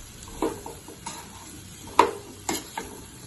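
Mango pickle mixture with pickle powder stirred in a pan, a few separate scraping and tapping strokes spaced out over a few seconds against a faint sizzle, close and without talk.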